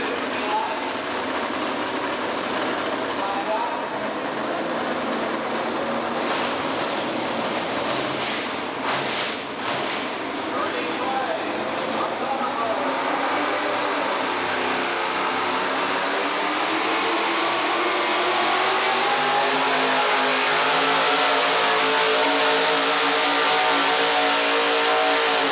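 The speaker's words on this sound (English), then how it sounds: "the next truck to come to the sled is going to be one of the Bumgardner brothers' fine truck. It's a Ford Ranger" A modified Ford Ranger truck at a 1987 outlaw truck pull in Murray, Kentucky, its engine roaring as it drags the sled, the loud drone building in pitch toward the end while an announcer talks over it.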